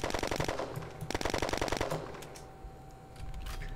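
Automatic gunfire in the online shooter Red Crucible: Firestorm comes as two rapid bursts of loud, close shots, followed by quieter game ambience.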